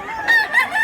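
A rooster crows once, a short, loud, close call rising and falling in pitch among chickens sold at a poultry market in Mantalungon, Cebu.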